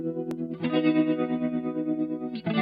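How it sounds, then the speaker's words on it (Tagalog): An electric guitar played through the tremolo setting of an M-Vave Black Box pedal rings out in sustained chords, the volume pulsing rapidly, with a fresh strum near the end. "dito sa B natin, tremolo effect natin."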